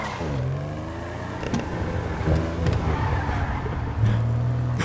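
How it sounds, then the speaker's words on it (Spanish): Cars racing in the video game GTA V, with steady engine drone and revving that rises in pitch several times, plus louder acceleration bursts near the end, continuous and fairly close. "Creo que está haciendo competencia de coches"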